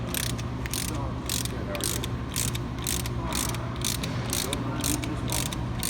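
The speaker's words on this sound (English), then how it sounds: "contact each other, and then use your socket wrench" A socket wrench ratchets steadily to press out a Fox shock eyelet bearing with bolts, a rapid run of clicking under a constant low background hum, close and fairly quiet.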